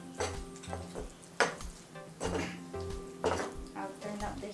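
A spoon scrapes and knocks around a cooking pot of curry with garam masala: several distinct metallic clinks and stirring strokes over a low background hum, fairly quiet.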